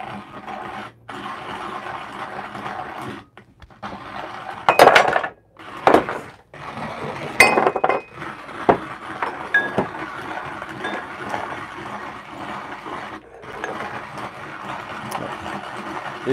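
Manual filter coffee grinder being cranked by hand, beans crunching in uneven bursts with clinks and scraping, louder gritty spikes mid-way, fairly close.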